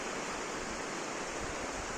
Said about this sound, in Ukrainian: просто слухаєш цей шум річки і все, і виключаєшся